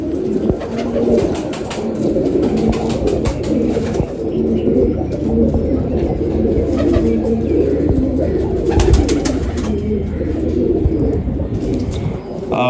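Several pigeons of a high-flying performer pair coo steadily up close in overlapping low, throaty calls, with faint wing flutters and a little background noise.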